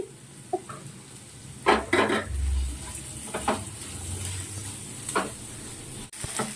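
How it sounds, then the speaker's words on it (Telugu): Onions frying with turmeric and salt in a pan for paneer tomato curry, a quiet steady sizzle broken by occasional stirring scrapes and spoon clinks, with no talk. "ఇప్పుడు ఆనియన్స్ ఫాస్ట్ గా ఫ్రై అయిపోవాలంటే మనం కొంచెం పసుపు వేసుకుందాం."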